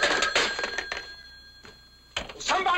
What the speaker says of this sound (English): Somebody man the phone in there!